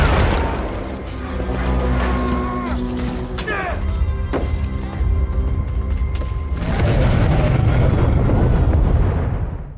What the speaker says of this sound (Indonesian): efek ledakan besar yang dekat itu